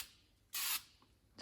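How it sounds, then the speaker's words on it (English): Spray paint is applied in thin coats to a Mazda RX-7 FD brake caliper: two short hissing bursts, the first about a quarter second long and the second starting at the end, with quiet between them. "So you want to put a very thin layer on the first surface."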